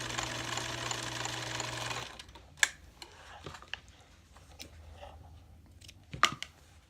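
Sewing machine running a surging stitch in one steady continuous burst for about two seconds, then stopping, followed by scattered faint clicks and handling noises.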